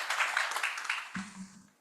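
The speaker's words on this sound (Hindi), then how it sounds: "आए, तालियों के साथ स्वागत करेंगे हम" Audience applause at a literary gathering in a hall, welcoming a speaker: a brief burst of clapping that quickly fades out, followed by a low murmur at the end.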